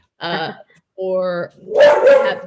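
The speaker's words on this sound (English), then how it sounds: "That's my dog." A pet dog barks close to a person speaking, giving a drawn-out tonal yelp followed by a louder, rough burst of barking after the brief words.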